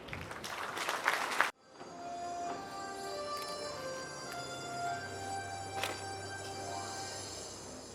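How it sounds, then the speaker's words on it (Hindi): A short burst of clapping from a crowd at a university orientation day stops abruptly, followed by a sustained, droning instrumental tone with faint accents. "जोरदार तालियों से स्वागत करें।"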